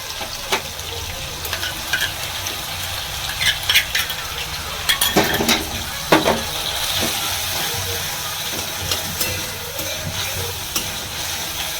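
Poppy seed paste goes into softened potatoes frying in a pan for aloo posto and is stirred: a continuous loud sizzle and hiss with scattered utensil scrapes and clinks up close.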